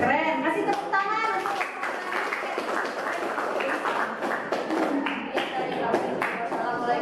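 Pupils in a classroom clap in a dense patter alongside speech, continuing through the whole stretch.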